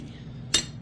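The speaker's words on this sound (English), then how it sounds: "You should be able to just stick a thing down the middle here and tap it out of there." Two sharp metallic taps ring out close by, about a third of a second apart, as a part is knocked out of a Wilton 4-inch bullet vise being overhauled.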